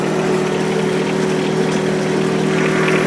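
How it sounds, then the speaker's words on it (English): A John Deere 1023E compact tractor engine putters steadily at low RPM, a close, continuous mid-low drone with a constant hum and no talk over it. "I'm just putting along here at low RPMs."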